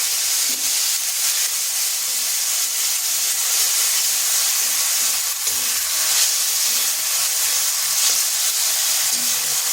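Ginger and tomato paste sizzles in a hot pan after cumin, a dried chilli and a bay leaf have gone in, giving a steady, close, loud hiss with faint stirring knocks.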